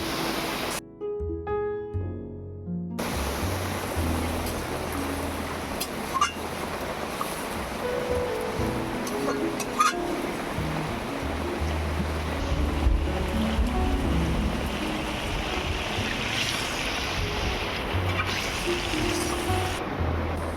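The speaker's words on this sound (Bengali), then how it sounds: "এবারে পরিমাণ মতো জল দিয়ে দেব" Water is poured into a cooking pan while making a fish curry with eggplant and potato, giving a steady, rushing wash of water noise that runs throughout after a brief dropout near the start, with no talk.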